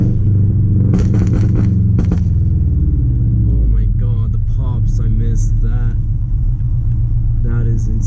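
A car engine rumbles loud and close, its steady low drone rising as the vehicle accelerates, while someone talks over the noise from inside the cabin.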